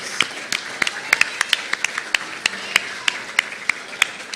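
Sparse, uneven clapping from a few people at a project launch event, with sharp individual claps spread steadily across the clip rather than a full ovation.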